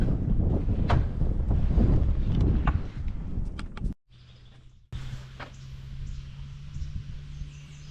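Wind howls and buffets through an old fort house in North Dakota, a steady rough roar close to the microphone that briefly drops away, then returns with a low droning hum underneath.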